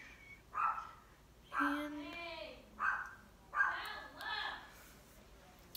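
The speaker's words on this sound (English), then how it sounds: "Sorry about my loud dogs." Dogs bark in several sharp bursts nearby, four or five barks spaced apart, with a brief spoken word at the start.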